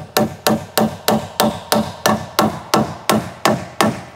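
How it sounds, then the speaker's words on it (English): Steady hammer blows driving a nail into a wooden wall brace on a small framed house, twelve sharp evenly spaced strikes at close range, each ringing briefly, with no talk. "I'm going to nail one up here first."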